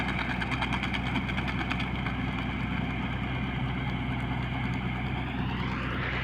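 A tractor engine idles steadily nearby, a continuous low rumble with a chugging throb that holds even throughout.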